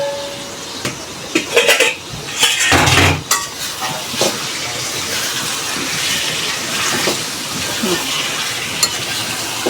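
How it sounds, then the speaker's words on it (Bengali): A lid is lifted off a pot of simmering chicken curry, releasing a loud, continuous steamy hiss and sizzle. A metallic clank sounds near the middle, and light scraping and bubbling run throughout. "ঢাকনাটা এখন খুলবো।"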